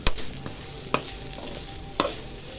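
Taro root fry with turmeric, salt and chili powder is stirred in a pan: three sharp spatula knocks against the pan stand out over a low, steady sizzle, with no voices.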